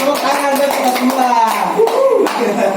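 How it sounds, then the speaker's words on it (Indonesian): A group claps hands in a classroom-style session, brisk scattered clapping mixed with voices and light laughter. "Tepuk tangan buat kita semua."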